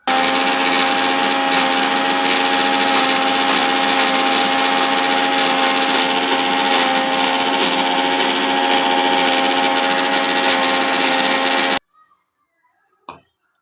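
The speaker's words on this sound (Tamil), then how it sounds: "இப்போ எல்லாமே பச்சையாக தான் இருக்குது மிக்சியில் அரைக்க போகிறோம்" A mixer grinder whirs loudly and steadily as it grinds raw onion, tomato, cumin and pepper, then cuts off abruptly, followed by a few faint knocks.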